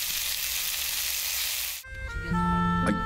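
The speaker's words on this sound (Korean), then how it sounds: "특별한 양념 없이 참기름만 둘러 구워도 군침이 절로 넘어갑니다." Octopus grilling in sesame oil without other seasoning gives a steady, loud sizzle and hiss for nearly two seconds, then cuts to quieter clattering and a brief tonal sound.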